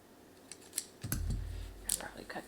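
A few quick scissor snips cutting ribbon and light clicks, close up and fairly quiet, with a brief low rustle in between.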